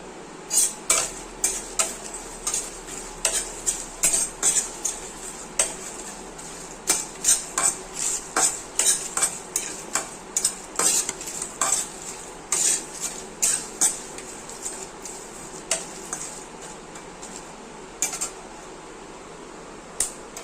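A metal spoon scrapes and clinks rhythmically against a kadai as masala spices are stirred and dry-fried, with a faint sizzle underneath; the sharp, regular strokes ring close and fairly loud and continue throughout, with no talking.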